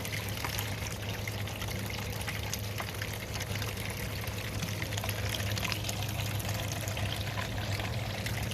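Continuous pouring and trickling of water while panning paydirt, a steady close wash with no break for several seconds and no speech over it.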